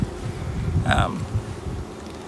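Honeybees from a captured swarm buzzing inside a wooden swarm box, a steady low hum with a brief louder whine near the middle, close up with faint wind noise.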